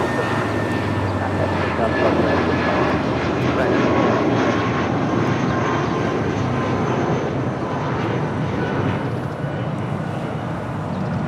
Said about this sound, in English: American Airlines Flight 1763 on that A319, originally with America West, delivered to them in November of 1998.